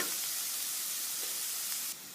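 Crushed garlic and ginger frying with shallots in a pan, a dense, even sizzle close up and continuous, easing slightly at the very end.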